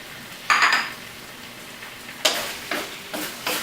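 Chicken liver and sliced cucumber sizzle in a pan in several bursts as they are stir-fried, with occasional scraping and clinks of a utensil.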